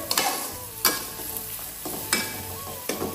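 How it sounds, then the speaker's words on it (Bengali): Garlic paste fries in oil in a pan, a soft steady sizzle punctuated by four sharp scraping strokes of a spoon stirring it, close and quiet. "রসুনের পেস্টটাকে একটু ভাজা ভাজা করে নিই তেলের সাথে"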